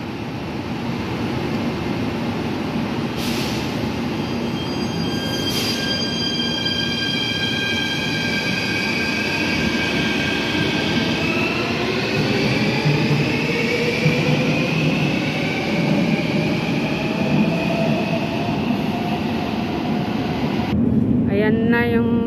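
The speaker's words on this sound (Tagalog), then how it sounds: "Pinakailalim na train dito." Underground metro train in Athens, Greece, rumbling loudly along the tracks with rising and falling whining tones, metallic wheel squeals and rattling carriage noise, heard from close by on board or at the platform.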